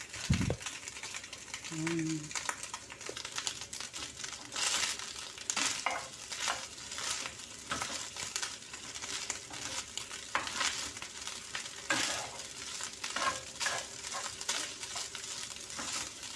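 Fried rice with hotdog is stirred in a pan, soft sizzling under repeated scraping and clinking of a spatula against the pan, fairly quiet, with occasional talk.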